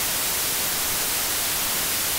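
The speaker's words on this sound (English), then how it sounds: "I might want to turn on some white noise." Loud, steady white noise from an audio plugin, a flat broadband hiss filling the whole short stretch without change.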